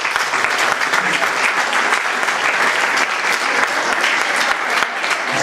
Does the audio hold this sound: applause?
yes